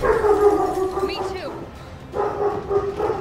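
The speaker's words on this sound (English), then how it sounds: "He started barking at the most inopportune time during this cutscene." A pet dog barks and howls in a room during a Resident Evil 3 gaming session, giving a couple of loud, close yelps and drawn-out howls, with brief talk mixed in.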